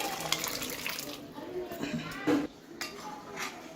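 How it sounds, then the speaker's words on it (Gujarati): Boiled peas and their cooking water pour into a pan of sev usal masala with a close splashing gush and a few metal clinks, while a voice talks over part of it. "હવે આપણે એમાં બાફેલા વટાણા પાણી સહિત નાખી દેવાનું છે।"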